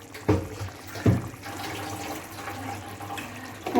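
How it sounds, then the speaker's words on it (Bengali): Water pours into a pan of curry for hilsa fish with a soft, continuous splashing and trickling, punctuated by a few brief louder splashes, fairly close and quiet. "আর দেবো একটু পরিমাণ মতো জল।"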